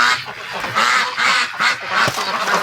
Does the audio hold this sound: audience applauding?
no